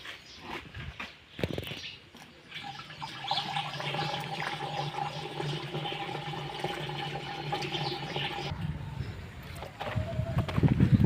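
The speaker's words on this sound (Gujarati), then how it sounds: "આ નળ ચાલુ કરે, આગળ પંપમાં પાણી ભરે" A water tap runs into a farm sprayer pump tank with a steady gushing, filling sound that holds for several seconds. Clanks and handling noises come before it and after it stops.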